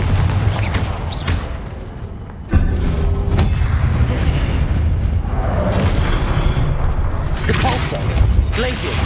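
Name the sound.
Confringo spell explosion, from video game Hogwarts Legacy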